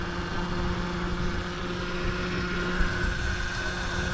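A Kugoo Wish 01 electric pit bike rides slowly in first gear, giving a steady, continuous motor whine and hum with road and wind noise, even and unbroken throughout, with no talking.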